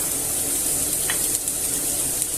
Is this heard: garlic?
yes